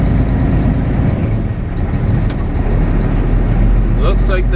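A semi truck is put in gear and pulls out of a truck stop with a steady, loud low engine rumble that holds throughout, and a brief hiss near the end that may be an air brake.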